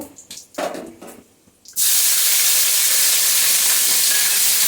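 Ground onion paste hits hot oil already holding cumin seeds and bursts into a loud, sustained hiss close by, after a few quieter kitchen knocks.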